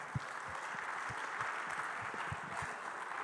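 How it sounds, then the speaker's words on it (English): An audience at a panel discussion gives a round of applause, a soft, fairly distant wash of clapping with a few low thumps underneath, lasting a few seconds. "I think that deserves a round of applause"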